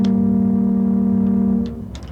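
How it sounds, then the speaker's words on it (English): A single low, steady boat-whistle tone from a theatre pipe organ sound effect, sustained for about a second and a half before cutting off into a brief room decay. "The first one is a boat whistle."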